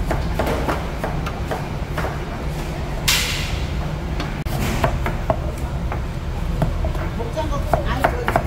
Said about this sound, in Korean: 모짜렐라 치즈를 반으로 가릅니다.